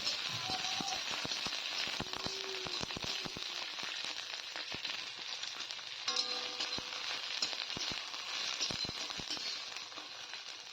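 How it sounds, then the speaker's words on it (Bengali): Green chillies and garlic fry in hot oil, giving a soft, steady crackle at moderate distance with scattered tiny pops and occasional light scraping, and no voices. "লঙ্কা আর রসুনটা কিন্তু ভাজা হয়ে গেছে"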